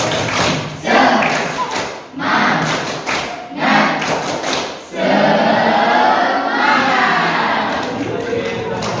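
A classroom of children performs a rhythmic spirit clap in unison, bursts of sharp clapping and thumping in patterned groups with short pauses, loud and close, with kids' voices mixed in.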